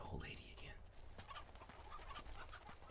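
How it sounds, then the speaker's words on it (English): Chickens cluck and squawk in the video game Uncharted 2: Among Thieves, a fluttery burst at the start followed by faint, scattered clucking under a steady ambient background, with a voice speaking briefly. "Move, chickens."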